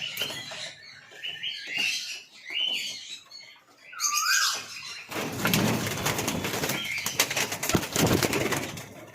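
Pigeons in a loft coo and call close by, then a burst of wing flapping fills the second half with dense, rustling beats.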